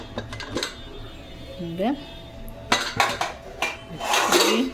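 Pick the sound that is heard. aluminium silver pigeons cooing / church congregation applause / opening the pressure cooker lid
opening the pressure cooker lid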